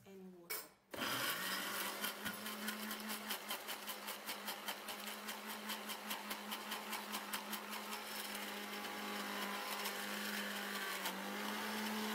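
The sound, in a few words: blender blending ingredients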